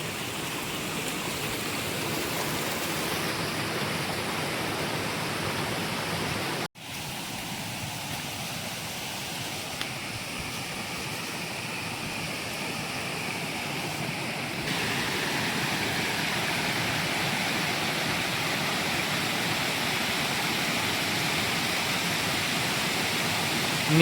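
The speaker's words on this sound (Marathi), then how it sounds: "मी वरती धबधब्यावरच्या वरती आहे आणि धबधबा इकडे खालती आहे." Bokad waterfall near Vajreshwari, heard from a spot above the falls: a steady, broadband rushing roar fills the whole stretch, with a brief dropout near seven seconds and a slightly louder, fuller wash in the later part.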